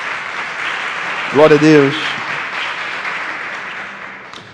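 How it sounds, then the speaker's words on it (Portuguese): A church congregation applauds steadily through the whole stretch, with a single voice calling out praise over the clapping partway through. "Você pode aplaudir a palavra de Deus?"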